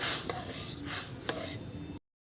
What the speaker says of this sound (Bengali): এবার একসঙ্গে এটা একটু নেড়ে দেবো